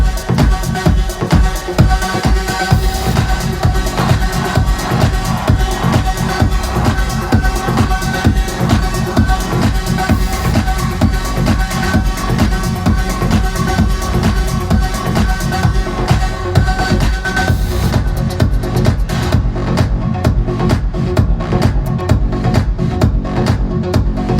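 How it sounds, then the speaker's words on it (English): Dense, loud dance music plays continuously with a steady driving beat and heavy bass, two layered tracks beatmatched and in the same key, locked together in tempo, without any talking. "What you're hearing is this track"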